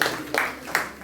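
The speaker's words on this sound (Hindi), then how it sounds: "ताली बजाइए" Short bursts of clapping from students in a classroom, three quick rounds of applause each fading quickly, close and fairly loud.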